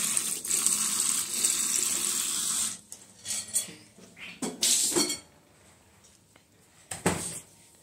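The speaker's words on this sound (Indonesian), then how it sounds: "aku pengen cuci di wastafel" Tap water runs steadily into a bathroom sink for a few seconds, then stops, followed by a few short splashes and rinsing sounds close by.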